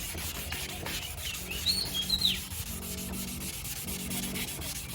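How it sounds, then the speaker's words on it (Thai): A car headlight lens being polished by hand, with steady rubbing and sanding strokes running continuously and fairly close, while a bird chirps faintly in the background. "เราก็ทำการขัดต่อนะฮะ"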